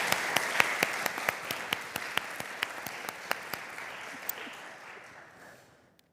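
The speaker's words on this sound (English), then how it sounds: "A round of applause to our speakers." Audience at a university conference session applauds its speakers, a thin scattering of claps with a few sharp, distinct hand claps standing out, fading away over about six seconds.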